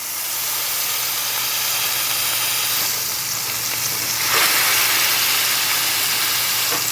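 Burger patties sizzling in a buttered pan, a steady bright hiss of frying fat with a faint low hum underneath, briefly surging louder partway through as the patties are pressed, no talking.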